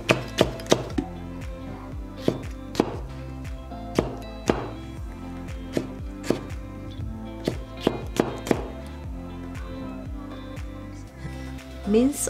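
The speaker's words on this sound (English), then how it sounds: "Mince or crush the garlic." Garlic is chopped on a cutting board with quick, crisp knife taps that come in irregular bursts and pauses, close and clear, with a faint voice now and then.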